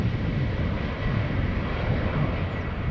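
A Lufthansa airliner arriving at Schiphol Airport in a crosswind, its engines a steady, loud broadband roar that holds evenly throughout, with no voices.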